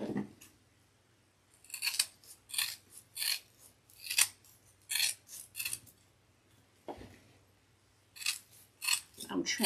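Scissors snip repeatedly through the material of a Dollar Tree DIY beehive craft, a close series of short, crisp cuts with brief pauses between bursts and no talking.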